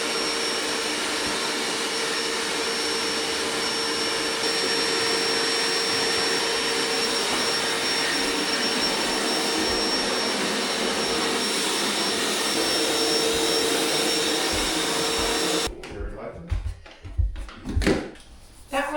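A vacuum cleaner whines loudly and steadily, then cuts off, followed by a few quiet bumps and handling noises.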